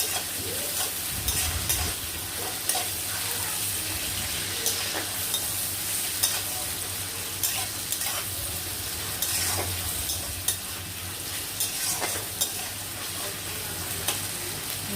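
Onions and vegetables for egg chow mein are stir-fried in hot oil in a wok, giving a loud, continuous sizzle with scraping stirs and occasional clinks, without speech.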